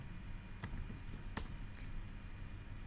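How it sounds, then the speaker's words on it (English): Light keystrokes on a computer keyboard while entering names into an Excel sheet, a few soft scattered taps over a steady background hiss, faint and close. "so I'm typing Ram."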